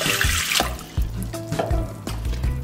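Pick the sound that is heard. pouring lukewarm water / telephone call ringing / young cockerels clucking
pouring lukewarm water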